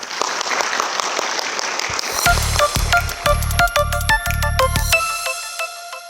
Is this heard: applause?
yes